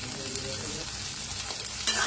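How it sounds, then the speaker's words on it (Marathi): Potato pieces roasting in a pan for a fasting-day meal, a steady continuous sizzle with stirring scrapes throughout, louder burst of frying near the end; no talk. "टाकायचा बटाटा, छान असं भाजून घ्यायचं"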